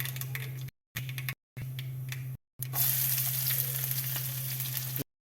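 Four small onions frying in hot oil in a pan for a Kerala squid curry, a soft continuous sizzle broken by short gaps, then steadier and brighter frying, no voices.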